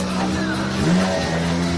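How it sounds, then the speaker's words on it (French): A Hyundai i20 rally car from Sarrazin Motorsport idles at the start podium of the 2019 Rallye Vosges Grand Est, holding a steady low engine drone with a brief swell of revs midway. "C'est la Hyundai 20 du Sarrazin Motorsport."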